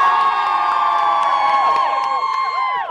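A loud studio crowd cheers and whoops continuously, with high shrill voices and shouts blending into a dense roar throughout.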